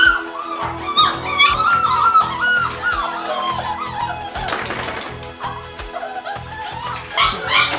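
Puppies in a kennel room at an animal shelter bark and yip in short, overlapping bursts, close by and fairly loud, with a few whimpers mixed in.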